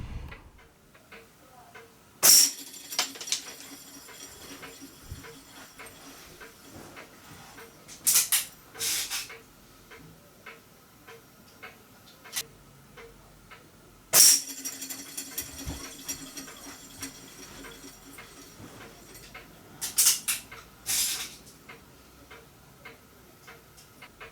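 Air gun pellets strike small homemade spinner targets made from empty CO2 cartridges, giving sharp metallic pings that ring briefly, in two clusters with a few lighter ticks between. Near and fairly loud, with no talk.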